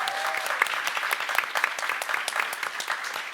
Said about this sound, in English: can we please give a round of applause for this amazing panelist?